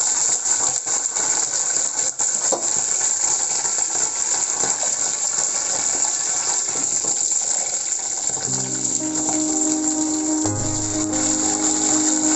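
Spiced sausages sizzle in hot oil in a frying pan, a steady bright crackle close by. Low tonal humming joins near the end.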